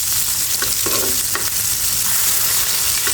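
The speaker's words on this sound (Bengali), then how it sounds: "উল্টে পাল্টে ভালো করে ভেজে নেব" Small puthi river fish fry in hot oil in a pan, throwing off a loud, continuous crackling sizzle with a few sharper pops and utensil touches as they are turned.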